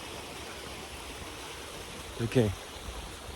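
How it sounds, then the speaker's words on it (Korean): Steady, soft rush of stream water running throughout along a walking trail in Yangpyeong, with a brief spoken word near the end. "물소리가 계속 들립니다"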